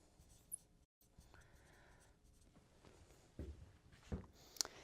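Faint marker or chalk scratching across a classroom board during an economics lecture, a few soft strokes and taps, quiet with low room noise and no clear speech.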